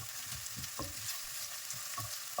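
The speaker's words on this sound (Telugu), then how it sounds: "ఇప్పుడు అల్లం వెల్లుల్లి పేస్ట్ వేయాలి, బాగా కలపాలి." Ginger-garlic paste is stirred in a hot frying pan while a curry is being cooked, giving a quiet, continuous sizzle broken by soft scraping strokes of the spoon, with no talking.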